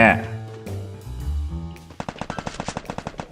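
Rapid automatic gunfire in the Free Fire video game, a fast run of sharp evenly spaced shots in the second half following muddier game sounds and a voice.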